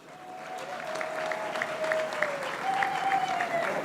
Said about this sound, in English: a big round of applause for position 1